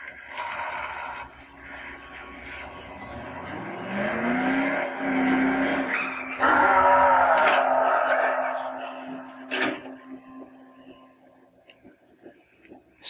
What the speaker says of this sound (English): We gotta drive this friggin' tank around.